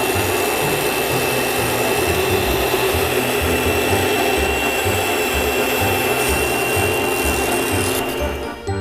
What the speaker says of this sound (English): the ring blade grinds as it cuts